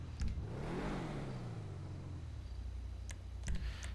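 A car engine in a Grand Theft Auto V garage, the Truffade Thrax supercar, revs up and then settles back to a steady idle, with a few sharp clicks from the garage menu.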